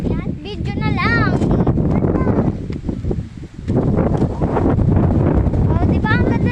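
Wind gusts outdoors on a farm, rushing and buffeting the microphone loudly throughout while several people talk over it.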